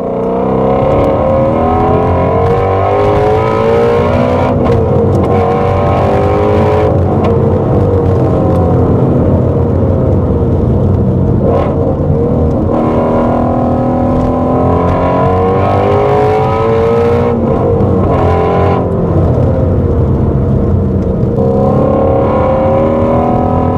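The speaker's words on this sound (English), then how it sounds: "Sounds pretty good too. Amazing sounding V8." A Ford Mustang Shelby GT350's V8 engine revs loudly and continuously, rising and falling in pitch, close and aggressive throughout with no talking.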